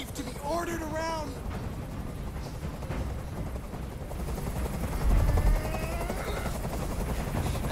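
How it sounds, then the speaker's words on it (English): A hovering helicopter in the video game Detroit: Become Human gives a steady low rotor rumble throughout, with a brief louder surge midway and voices speaking over it early on. "Tell that helicopter to get out of here!"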